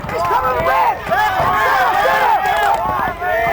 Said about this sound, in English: The crowd's getting a little excited.